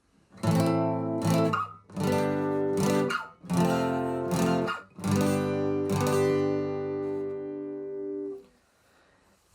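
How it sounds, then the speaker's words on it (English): Acoustic guitar down strums played in pairs, each chord struck twice with short gaps between, clear and close, no voices. "2 down strums per chord, which sounds like this"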